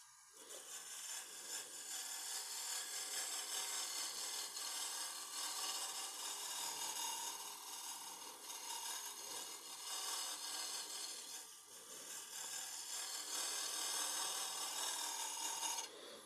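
A cutter scrapes and hisses against a wood blank spinning on a lathe during hollowing, a continuous close rasping drone with a brief dip near the end, no voices.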